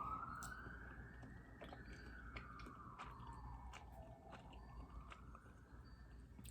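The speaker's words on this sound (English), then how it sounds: "I think a siren's coming around, so let's just wait for it to pass first." A faint wailing siren rises and falls slowly in the distance, sweeping up and down over a steady low rumble of traffic.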